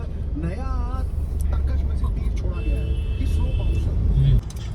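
Steady road traffic rumble from cars in a congested stretch near Bhiwandi on the way to Kalyan, a continuous engine drone with a passing vehicle, heard alongside talking.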